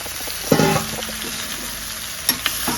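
Mushroom pieces, fresh curry leaves and a pinch of turmeric tipped into hot oil in a village-style pan, a loud burst of sizzle followed by steady frying and a couple of stirring knocks.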